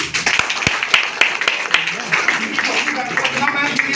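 Sharp, irregular hand claps ring out over a busy room at a DXN business meeting, mixing with overlapping voices and crowd chatter.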